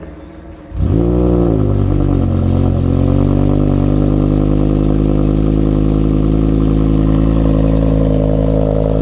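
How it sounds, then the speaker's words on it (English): BMW M5 V10 engine cold start: a brief crank, then it fires and flares up before settling into a loud, steady high idle, close up and alone. "Cold start for the V10."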